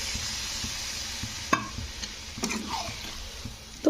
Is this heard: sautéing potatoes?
yes